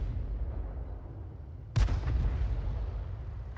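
A Bishop self-propelled gun in a video game fires a single heavy artillery round midway, a sudden deep boom that rolls off over steady low background rumble.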